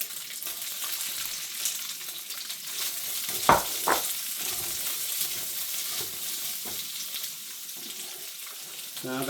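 Onion frying in oil for a chicken, shrimp and vegetable stir fry, a broad steady hiss with a few sharp scraping stirs near the middle and faint background murmurs.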